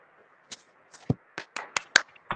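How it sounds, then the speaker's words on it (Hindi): A few students in a classroom clap briefly: about eight sparse, irregular handclaps, close and crisp, over a faint steady hum. "उनके तालियां बजाइए पहले"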